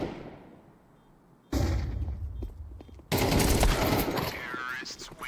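Gunfire in a competitive esports match, with sharp rapid bursts breaking in abruptly after a quiet opening and building to a dense, loud volley, while casters talk over it.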